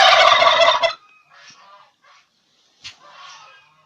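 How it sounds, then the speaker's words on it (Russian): Turkey gobbling loudly in a fast rattling burst, followed by quieter scattered calls and clucks from the bird. "Индюки."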